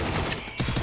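Rapid gunfire bursts from the battle-royale shooter game Free Fire, dense overlapping shots with a brief gap midway before another volley.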